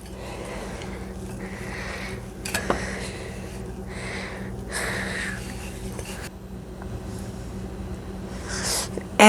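Utensil scraping and clinking against a bowl while stirring pancake batter for red and black bean pancakes, a steady close-up swishing with a few sharper knocks.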